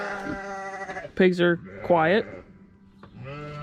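Sheep bleat loudly and close by on a farm during chores, two or three drawn-out wavering cries in quick succession, with someone talking between them.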